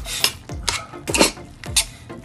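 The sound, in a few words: stirring squid with black pepper in a cooking pan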